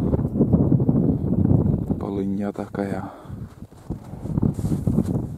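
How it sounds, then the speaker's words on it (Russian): Strong wind gusting across a frozen lake in falling snow, a steady roaring rush with buffeting on the microphone, running under a voice as he talks throughout. "Вот такой ветер сильный."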